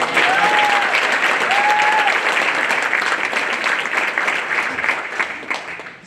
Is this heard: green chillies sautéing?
no